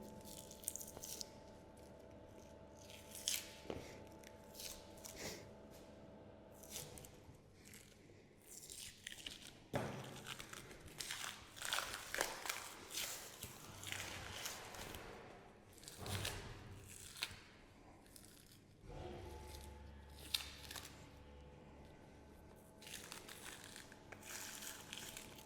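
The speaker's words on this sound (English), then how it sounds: "peel the membrane" The membrane is peeled off a beef cut with slow tearing and squelching sounds, close and fairly quiet, coming in uneven bursts with some handling noise in between.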